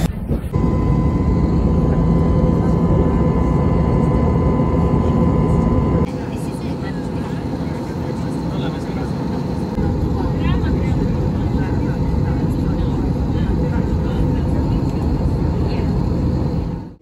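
Steady, loud roar of a jet airliner's engines while passengers board the plane at a Paris airport gate, a continuous broadband rumble and whine that shifts slightly in tone partway through.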